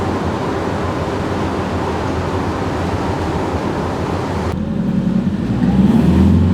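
A Ram ProMaster diesel van cruising at speed, giving a steady, even rumble of road and engine noise that swells slightly louder near the end, with no talking.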